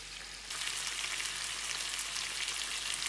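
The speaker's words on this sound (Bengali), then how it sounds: "অলরেডি একটা সাইড ভাজা হয়ে গেছে, তো আমি আরেকটা সাইড ভাজার জন্য দিচ্ছি।" Tandoori-style chicken sizzling in a pan, a dense hissing fry that jumps louder after a brief quieter start when a piece is turned, steady and close with no talk.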